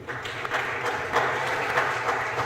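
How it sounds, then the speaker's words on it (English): Audience applause for the keynote speaker at the NACOS Tech Fusion 2025 conference, a steady wash of many hands clapping at moderate volume throughout, with no talk over it. "A round of applause for our keynote speaker, please."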